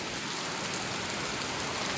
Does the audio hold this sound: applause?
no